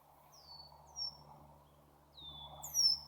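Several male birds sing in short, thin whistled phrases against a quiet outdoor hum, a few calls sweeping downward at a moderate distance.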